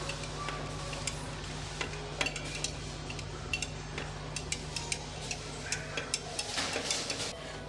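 A spoon scrapes and clinks against a vessel while cooked ragi porridge is stirred into buttermilk, a steady run of light metallic taps and swishes over a constant low hum.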